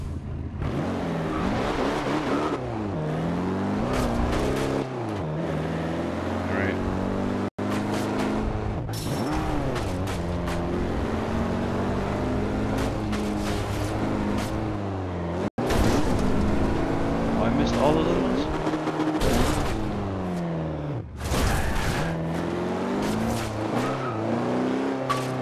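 Armor-plated Jeep driving hard in the racing game Forza Horizon 2, a loud, steady engine roar with shifting pitch, tire noise and brief thuds throughout, with a voice talking over it.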